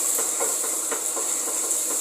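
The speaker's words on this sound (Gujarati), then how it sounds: "લસણ, મરચું, હળદર આ બધાને સાંતળી દઈશું।" Garlic, chili and turmeric sizzle in hot oil over a slow flame while sautéing for a crispy okra fry, a steady close hiss with soft crackles and no talk.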